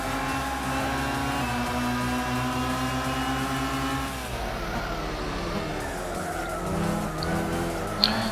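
Race cars in Gran Turismo 6 drone with steady engine tones, shifting pitch midway as the cars bump and unsettle, with a brief knock near the end.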